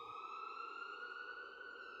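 An ambulance siren plays as a sound effect in an audiobook, holding a faint, steady electronic wail with layered tones that runs unbroken throughout.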